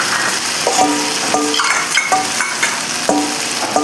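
Potatoes are sautéed in a pan of cooked-down spice masala with turmeric while a Bengali chicken and moong dal dish is made, giving steady frying noise with repeated scraping stirs and occasional metallic clinks of a spoon against the pan.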